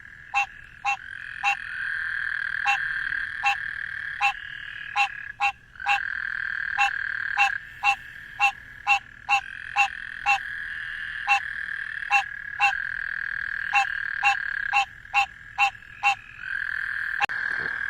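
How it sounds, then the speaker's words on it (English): A frog calls at night in a steady series of sharp, evenly spaced chirping pulses over a continuous high trilling chorus, close and clear with no talk. "Definitely going to be our prettiest frog of the night"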